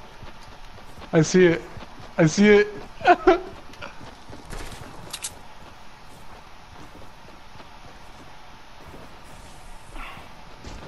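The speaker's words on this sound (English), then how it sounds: "It's a llama coming towards you, Zach." Hooved footsteps of a llama approaching in a Fortnite-style battle royale game, a soft clip-clop patter heard between several people talking.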